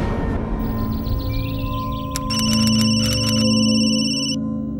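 A telephone rings in a TV crime drama, with a bright electronic ringtone of repeated short pulses over a room hum and background music, loud and close.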